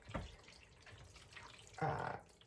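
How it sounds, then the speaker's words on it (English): Water strained off cooked macaroni pasta in a home kitchen, faint splashes and trickling with a brief pour at the start and a stronger gush of draining water near the end, quiet and close, with no talking. "And I'm gonna strain out the rest."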